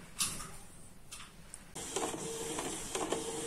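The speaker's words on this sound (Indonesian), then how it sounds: "Nah, kita akan mulai cetak ID card-nya." A Canon IP2770 inkjet printer printing an ID card on A4 paper with pigment ink: faint mechanical clicks and whirs at first, then the carriage motor whines steadily with ticking shuttles as printing runs, quiet and close.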